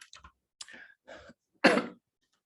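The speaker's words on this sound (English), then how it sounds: "Okay, a bit coughing." A person coughs and clears their throat in a quiet room, several short rough bursts ending in one louder, longer cough.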